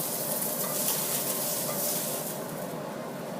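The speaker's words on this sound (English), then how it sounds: "keep this in mind when you're frying the meat" Meat fries in a sauté pan with a steady, even sizzle and hiss that carries on unbroken, close and fairly loud, with no talk.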